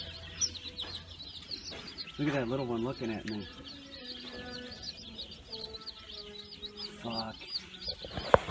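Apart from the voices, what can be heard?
bantam chickens clucking in a Petco pet store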